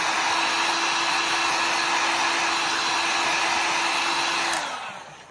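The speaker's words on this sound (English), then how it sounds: "I'm just heating it up with the heat gun like this" A heat gun blows a steady, loud, hissing rush of hot air with a faint whine while warming a plastic action-figure rib, then cuts out and winds down near the end.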